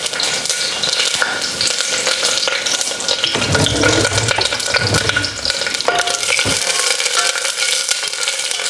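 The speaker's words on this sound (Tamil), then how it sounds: "இதை ஒரு சாட்டே மாதிரி பண்ணிவிட்டு சும்மா கொஞ்ச நேரம் விட்டுட்டு" Slit green chillies sauté in a hot pan for a white gravy, producing a continuous near sizzle and crackle. A few louder bursts of frying come partway through, and no one speaks.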